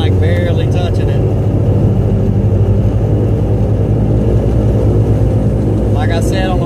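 A car fitted with a 60mm throttle body drives on the road, its engine droning loud and steady inside the cabin, with a person talking over the continuous rumble.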